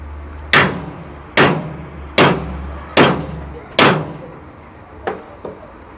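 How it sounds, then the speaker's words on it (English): Hammer blows on a lathe part clamped in a vise: five loud, evenly spaced metallic strikes with ringing decay, then two lighter taps, no voices. "If all else fails, get a hammer"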